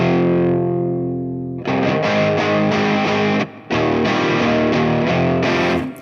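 An electric guitar with its bridge pickup, played through a Hello Sailor Effects Xenomorph fuzz pedal, rings out a held chord, then launches into thick, fuzzy distorted riffing with a short break before the chugging resumes.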